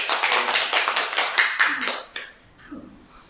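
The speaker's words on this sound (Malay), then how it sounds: "Kita beri tepukan" Applause from a group, a dense patter of many hands clapping for about two seconds, then fading out into quiet murmuring.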